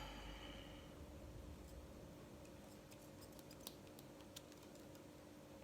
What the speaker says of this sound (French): Je coupe l'excédent de la tresse